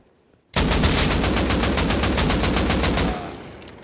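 Rapid automatic gunfire in a shooter video game, a loud, steady burst of evenly spaced shots lasting about two and a half seconds before cutting off.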